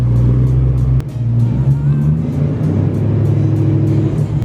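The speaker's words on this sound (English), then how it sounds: "This car is so loud." BMW E92 M3 engine running loud and steady at close range, a deep rumbling drone with a brief dip and a slight rise in revs, no talking over it.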